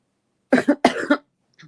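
A single close, harsh cough from someone with flu and a sore throat, in two or three quick bursts, followed by a faint breath after a pause.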